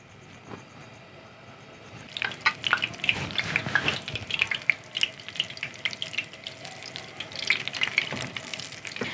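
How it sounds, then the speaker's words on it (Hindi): An egg-coated vegetable sandwich is eased into moderately hot oil, setting off a steady close sizzle and crackle that rises suddenly after a quiet start and keeps spitting and popping throughout. "और बहुत ही आराम के साथ हमने इसको ऑयल में डाल लेना है।"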